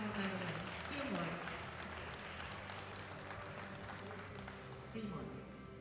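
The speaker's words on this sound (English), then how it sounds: "Give them a big round of applause, guys." Audience applause for junior medal winners at a world powerlifting championship, a steady distant wash of clapping in a large hall with voices mixed in, fairly faint throughout.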